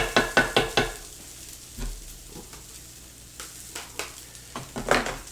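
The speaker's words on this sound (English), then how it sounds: "mix up your hash browns, make sure they're getting nice and crisp and golden brown" Hash browns fry in a pan with a steady low sizzle, opened by a quick run of sharp spatula knocks and ending with more scraping taps as they are turned.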